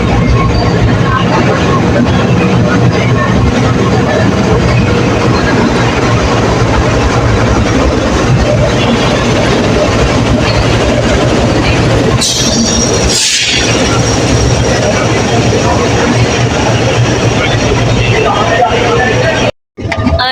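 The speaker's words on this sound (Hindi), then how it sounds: "जन्नत ट्रेन आ रही है, ट्रेन। अरे वाह, आ गई।" A train pulls into Multan railway station with a loud, steady low engine rumble and rolling rail noise filling the platform, a brief horn-like burst midway, and voices talking over it.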